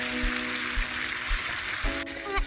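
Marsala sauce simmers in a pan, giving a soft, steady sizzle and a faint bubbling. Low thumps come at regular intervals, and there is a brief clink near the end.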